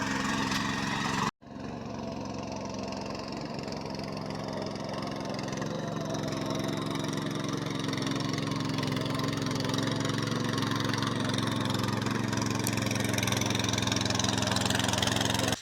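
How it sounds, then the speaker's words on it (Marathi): A tractor engine runs on a farm field in Konkan, a steady close mechanical drone with a brief dropout near the start, then continuing evenly with no talking. "इकडे पप्पा ट्रॅक्टर धरल्याने जरा मी आता धरतोय असं"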